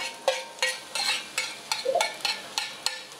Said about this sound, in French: Ça chante doucement. Et là, je fais suer mon oignon.